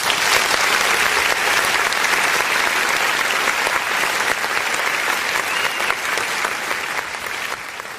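Sustained loud applause from a crowd at a street protest, dense clapping that holds steady and eases slightly toward the end.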